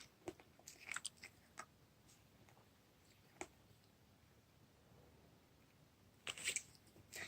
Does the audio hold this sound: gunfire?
no